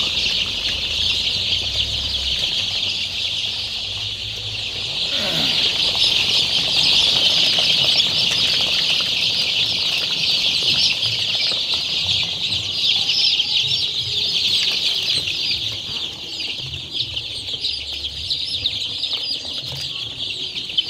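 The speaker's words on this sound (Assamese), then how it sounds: "এইটো হৈছে কৰকনাথ মুৰ্গীৰ পোৱালি" Constant high-pitched peeping of many Kadaknath and Silky chicken chicks fills the scene, a dense steady chorus with faint farmyard rustling underneath.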